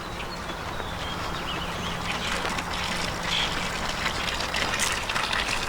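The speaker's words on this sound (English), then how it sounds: "And then right down by the road is where the actual fountain is." Water runs steadily from a roadside spring-fed fountain beside a Pennsylvania highway, with a soft continuous trickle and splash under faint outdoor ambience.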